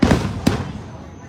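Fireworks bursting over a residential neighbourhood, two or three sharp cracks in quick succession followed by a trailing rumble, mixed with nearby voices chatting.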